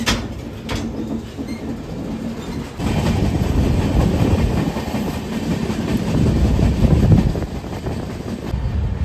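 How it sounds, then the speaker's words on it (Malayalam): Steady rumble and rhythmic clatter of a moving passenger train, loud and close, with a goods train's rolling noise swelling alongside from about three seconds on as it is overtaken, between Uttar Pradesh and Bihar. "നമ്മൾ പോകുന്ന അതേ ഡയറക്ഷനിൽ തന്നെ ഒരു ഗുഡ്സ് വണ്ടി കൂടി പോകുന്നു കേട്ടോ"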